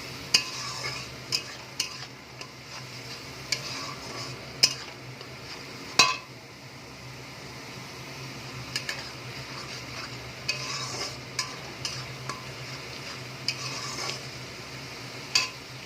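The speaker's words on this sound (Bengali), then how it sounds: "জাস্ট একটু নাড়াচাড়া করে নেব। এবার আমি দিয়ে দিলাম পেঁয়াজ বাটা।" Onion paste sizzling in a pan for chicken kofta curry, stirred with a utensil that taps and scrapes the pan at irregular intervals over a steady soft frying hiss, close and fairly quiet, with no talking.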